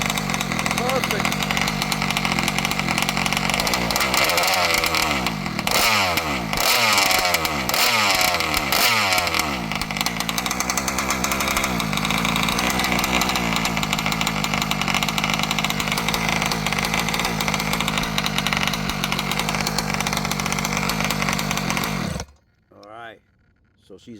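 An ALX 71cc gas engine runs steadily at idle for about twenty-two seconds, a loud continuous rasping drone with a brief uneven patch early on, then cuts out abruptly into near silence.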